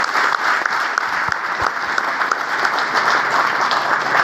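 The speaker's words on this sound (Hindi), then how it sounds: "ताली बजा दीजिए।" Audience applause at a seminar celebration, a dense, steady wash of many hands clapping that holds evenly for about four seconds with no talk over it.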